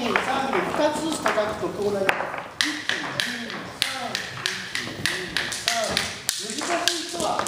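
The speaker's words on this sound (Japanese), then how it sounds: "現在石で音を作るというワークショップをやっています。" Stones struck together in a sound-making workshop produce a steady run of crisp, clicking taps at a fairly regular beat, close and clear, while people talk over them.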